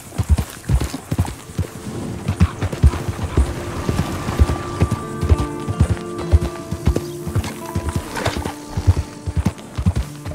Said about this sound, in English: Oh, there's just there wild horses.